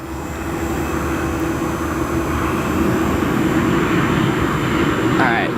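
A KLM airliner arriving at O'Hare International Airport gives a steady, swelling roar of jet engines, heard from a distance and growing slightly louder throughout without any talk.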